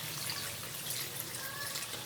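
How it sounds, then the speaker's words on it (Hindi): Water pours into a pan of fried fish while fish korma cooks, a steady, close, broadband rush with no pauses and no talking. "मछली अच्छी से फ्राई हो चुकी है और अब हम इसमें डालेंगे थोड़ा सा पानी।"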